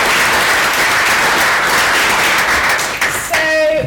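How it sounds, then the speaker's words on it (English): Loud, close applause and clapping from an audience at an edtech talk, a dense continuous patter that breaks off near the end as a voice starts. "Should we give him another round of applause?"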